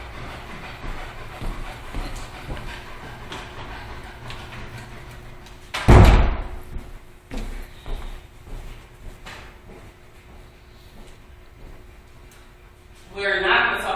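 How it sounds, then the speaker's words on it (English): A classroom door shuts with one loud thud midway through, amid steady background rustle and people talking in the room. "Close this door."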